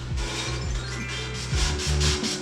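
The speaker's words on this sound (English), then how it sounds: "Monica here is going to be scuffing the metal so that the primer and the bed line can just stick to it" Metal on a Toyota Tacoma off-road bumper being scuffed by hand, a steady close abrasive rubbing with repeated strokes and a few heavier pulses, no talking.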